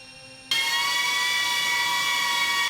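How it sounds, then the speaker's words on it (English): A DJI Avata 1 FPV drone fitted with modified aftermarket propellers spins up abruptly into a loud, steady high-pitched whine with strong tonal harmonics, close and continuous after a quiet start. "Avata 1 with modified propellers."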